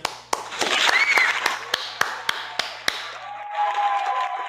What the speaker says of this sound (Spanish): Aplausos para la señorita.